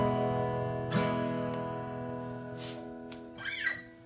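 Guitar chords from Paramore's "The Only Exception" ring out and sustain, with a few strums and string squeaks as the notes slowly decay.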